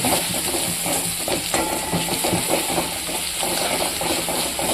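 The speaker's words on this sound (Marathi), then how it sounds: "एक चमचासारखं तिखट ॲड करायचं आहे आणि हलवून घ्यायचं" Methi (fenugreek leaf) bhaji in a pan being stirred with turmeric, coriander-cumin powder and chili powder in oil. Continuous close sizzling and frying is broken by repeated scraping strokes of the spoon, with no voices.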